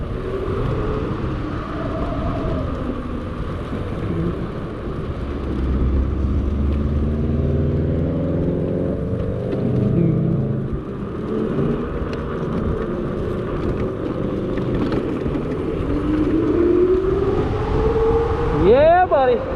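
An Onyx RCR electric bike accelerating, its motor giving a low rising whine under rushing wind and road rumble, with a sharp upward sweep near the end.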